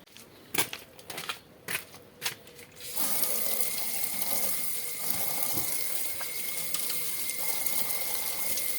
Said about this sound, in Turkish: Şimdi ilk önce patlıcanlarımızı bir yıkayalım.